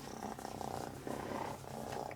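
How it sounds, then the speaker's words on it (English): A pet cat purrs steadily and close up, its continuous rumbling rhythm filling the moment with no talking. "Oh man, you're really purring up a storm."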